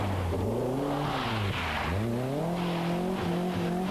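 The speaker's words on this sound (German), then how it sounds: "Hilflos nach Traktion scharrend, kämpft der Bayer gegen die Allrad-Konkurrenz aus der Gruppe N." Rear-wheel-drive BMW rally car at the 1992 ADAC Eifel Rally, engine revving hard and dropping as it scrabbles for traction on a loose stage, with continuous loud rising and falling engine tones and no talk.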